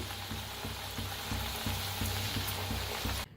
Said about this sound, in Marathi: आता सगळं असंच तळून घेते तळून बी आणि सगळं बनवून घेते